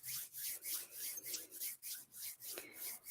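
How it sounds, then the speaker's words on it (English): Palms of the hands rubbed together in a quiet meditation setting, a soft rhythmic swishing friction repeated about ten times in steady strokes, close and alone with no talk. "Rub the palms of the hands together."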